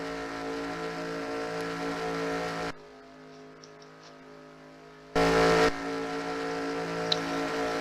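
Race cars in a racing video game fire up to start at Talladega, a loud buzzing engine drone with layered harmonics that drops out to near quiet, returns with a brief loud burst, then settles back to a steady hum.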